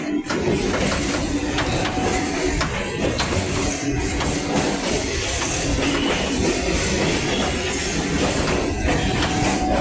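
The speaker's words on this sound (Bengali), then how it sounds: "ট্রেন এবার সমতলে নামছে" A Kolkata local train between Majerhat and Burrabazar rumbles along steadily, descending to ground level, with a dense, continuous roar of wheels and carriages, loud and close, no talking.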